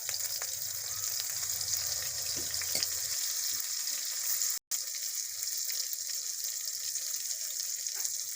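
Eggplant slices coated in an egg mixture sizzle in a wok, giving a steady, moderately loud frying hiss that briefly cuts out partway through.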